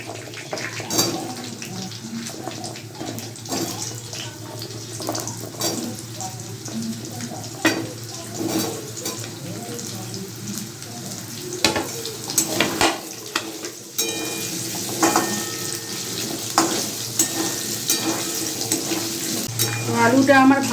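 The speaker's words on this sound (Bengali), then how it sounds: "এখন আমি আলুটাও ভেজে নেব।" Potatoes sizzling and crackling in hot oil in a wok for a potol-aloo curry, a steady frying hiss broken by sharp stirring scrapes and clinks, close and continuous with no talk.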